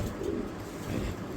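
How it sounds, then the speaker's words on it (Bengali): Pigeons kept for sale coo in a steady, low, throaty murmur that runs unbroken through the moment, fairly close and with no one talking over them. "সব কবুতর আজকে ছটপট ছটপট দর্শক।"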